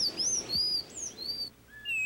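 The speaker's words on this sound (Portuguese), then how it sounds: "Tem arapuçu" A woodcreeper sings in open scrubland at the foot of a mountain range, giving thin, high whistled notes that rise and fall in short phrases, clear against a quiet natural background.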